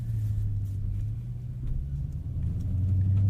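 A 2019 widebody Dodge Challenger R/T Scat Pack's engine and exhaust give a steady deep low rumble while driving at night, fairly close and even, swelling slightly toward the end.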